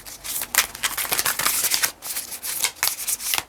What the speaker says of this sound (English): Let's do a little shuffling here.